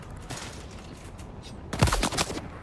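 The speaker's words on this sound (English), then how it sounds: "And it is a Gatling gun." Gatling gun fire in the video game Dune Awakening, with scattered gunfire early, then a loud close rapid burst near the end.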